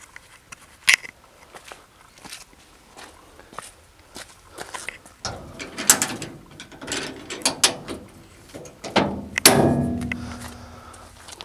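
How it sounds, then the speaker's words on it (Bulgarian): Automatic latches snapping shut on the lid of a Lider/Trigano P202 camping trailer, a series of sharp mechanical clicks, clunks and rattles, close and irregular, with footsteps and handling noise between them. "Затваряме, както казах, почти са автоматични закопчалките"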